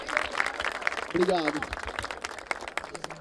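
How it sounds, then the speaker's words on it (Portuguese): A crowd at a rap battle event in Barueri claps in a ragged, lively burst of applause, with voices talking and cheering over it throughout. "merece mais palmas aí de vocês aí"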